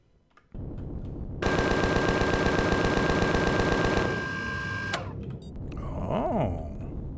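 Rapid automatic weapon fire in the space game Empyrion, a loud sustained burst of evenly spaced shots lasting a few seconds, then an abrupt stop followed by a whooshing, wavering sci-fi tone.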